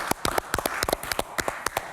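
A studio audience gives scattered applause for a guest on a health program, a few dozen sharp, distinct hand claps at an uneven pace, fairly close and moderately quiet, with no talking.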